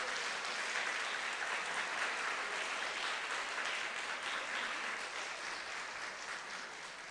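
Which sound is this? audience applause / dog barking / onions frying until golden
audience applause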